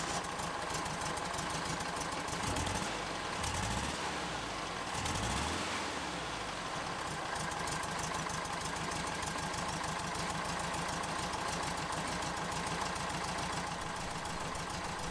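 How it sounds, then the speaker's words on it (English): A 1965 Volkswagen Westfalia pop-top camper bus engine idles steadily and close up, with a fast even low throb and a brief rev swell partway through, alone without any talk. "So I'll fire it up here for you"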